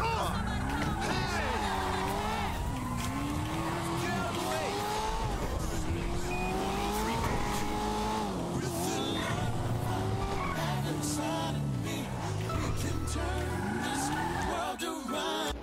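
A car in Grand Theft Auto V skidding and squealing on a damaged tire, engine revving and tires screeching in repeated wavering sweeps throughout, with voices talking over it.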